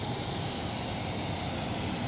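F-18 fighter jet engine in Microsoft Flight Simulator 2020, a steady broadband jet roar with hiss, constant and loud with no breaks.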